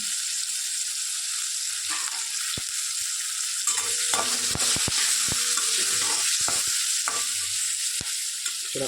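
Asafoetida, green chilies, onion and garlic frying in hot oil in a pan, a steady bright sizzle with scattered clicks and knocks from stirring.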